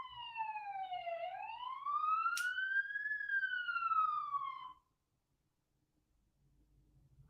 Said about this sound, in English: I have never heard sirens so loud before.